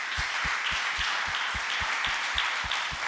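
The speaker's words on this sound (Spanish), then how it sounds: "¿Cuántos pueden dar un aplauso al Señor?" A church congregation claps in steady rhythm during a Sunday worship service, roughly a dozen even beats over a continuous wash of crowd applause.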